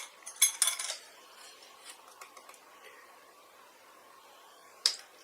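A teaspoon scooping baking powder into cake mix: a few light metallic scrapes and clinks close by, then quiet rustling, and one sharp tap near the end.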